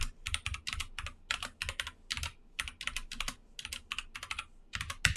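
Rapid bursts of typing on a computer keyboard, keys clattering in quick irregular clusters with brief pauses between runs, close and clear with no talking.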